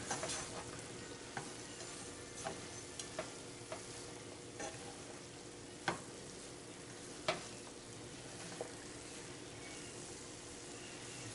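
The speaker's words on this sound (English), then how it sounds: "we're gonna just let it simmer for a little bit" Dinner simmers and sizzles steadily in a pan, a continuous soft bubbling hiss with occasional stirring clinks and scrapes, close by and with no voices.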